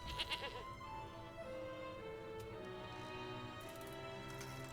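A goat bleats in the digital card game MTG Arena, a short wavering cry amid layered game music and effects, moderately loud with no talking.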